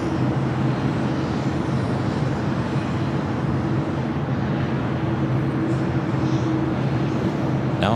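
An airliner on final approach to runway 25 left at LAX gives a steady, continuous engine roar that holds at an even level throughout, with no voices.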